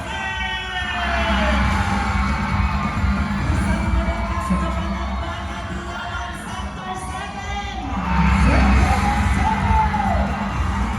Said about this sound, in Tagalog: Give your shout, Sector 5! Scream! Sector 6!